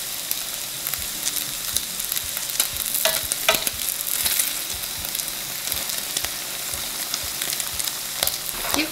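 Eggplant sizzles steadily in a pan over low heat while a reduced kabayaki-style sauce is brushed on, a close, continuous fry with scattered light clicks and taps of the brush and utensils.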